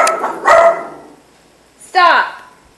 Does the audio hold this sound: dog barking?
yes